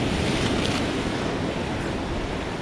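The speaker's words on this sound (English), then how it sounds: "that swell's impressive" Large ocean swells rolling and breaking along a striper fishing shore, a continuous heavy roar of surf mixed with wind buffeting the microphone, loud and close with no voices.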